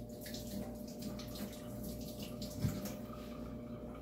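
Water runs steadily from a kitchen tap in a quiet, faint, continuous stream, with one brief splash or clunk partway through.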